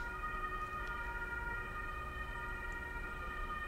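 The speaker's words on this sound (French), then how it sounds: "Changement de sirène à ce moment-là." An emergency vehicle siren holds a steady, continuous tone throughout, moderately loud over a low, constant background rumble with no talk.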